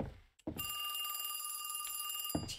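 In a spooky video game a telephone rings with a loud, sustained high bell trill lasting about two seconds, framed by brief low thumps at either end and no speech.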